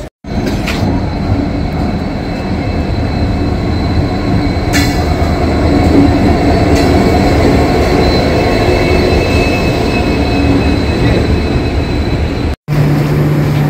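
A train pulling in at the Siliguri station platform on the New Jalpaiguri to Alipurduar tourist express route, with a loud continuous low rumble of rolling wagons, wheel squeal and brief clanks, close by, ending in a sudden drop.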